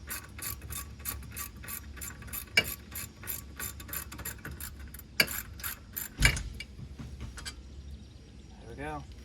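A manual ratchet wrench loosens a rear brake bolt on a 2012 Chevy Equinox, with fast, even pawl clicks in bursts broken by a few sharper metallic knocks, heard up close.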